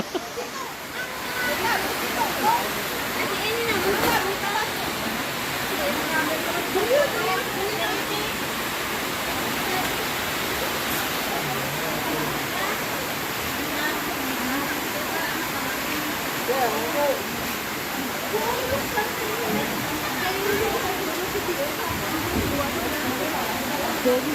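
Rushing floodwater brought by Typhoon Goring in Iloilo, a constant roaring wash of moving water lasting throughout, with people talking and laughing nearby over it.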